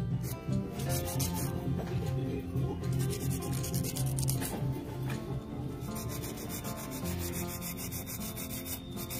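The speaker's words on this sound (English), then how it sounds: "I'm using a 150 grit fantastic file" A 150 grit nail file rubs steadily across a fingernail while it is shaped, making a continuous close, scratchy rasp over music playing in the background.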